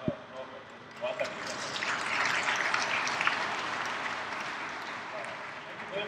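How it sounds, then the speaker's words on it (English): A conference audience gives a round of applause, rising to a broad, sustained clapping swell after a few scattered early claps, with faint talk underneath. "if you can just give the last round of applause"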